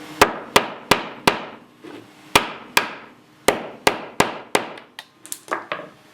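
A hammer strikes an end grain wooden cutting board about a dozen times, sharp close knocks in a fairly steady rhythm that grows quicker and lighter toward the end.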